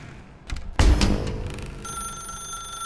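A telephone rings in the video game The Stanley Parable: a short burst of electronic bell tones after a thump, then a steady high ringing tone that carries on alone.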